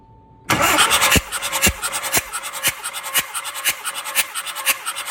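A car engine cranks on the starter during a compression test, with injectors, spark plugs and a valve wire removed and a gauge fitted; a loud, steady rhythmic churning of repeated compression strokes, close up, with no talk.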